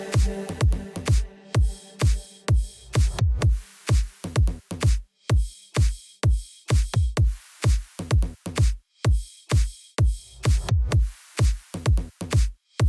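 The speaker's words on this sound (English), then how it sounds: "And obviously we have the drums and effects in the drop" Electronic drums and effects from a dance track drop: punchy kicks and snappy hits in a steady driving pattern, with swooshing noise effects layered over some bars, loud and without any talking.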